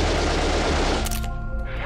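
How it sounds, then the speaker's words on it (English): A rapid burst of gunfire rings out outside, loud, dense and continuous, then gives way to a ringing, fading tail with a few scattered cracks. "I think there's gunshots outside."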